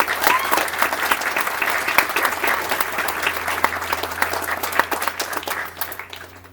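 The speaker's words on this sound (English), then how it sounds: "So big round of applause." Applause at a commencement ceremony, a full, continuous round of clapping from a large audience, fairly close and steady before tapering off in the final second, with a low steady hum beneath it.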